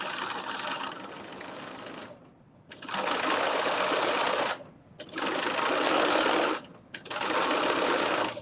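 A sewing machine stitches thin fabric, turned under a quarter inch, in three sustained runs of fast motor whirring separated by short pauses, close and clear.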